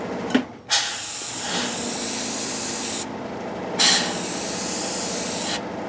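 An airbrush hisses in long, steady bursts as it lays pre-shading paint onto a model kit of the Enterprise, with brief pauses between passes and a few soft clicks of the trigger.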